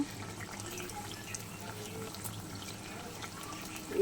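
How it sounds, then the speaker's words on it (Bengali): Eggplant fritters (beguni) deep frying in hot oil give a steady, bubbling hiss that holds at an even level throughout, close by and with no talk. "দেখো বন্ধুরা বেগুনি ভাজা হচ্ছে"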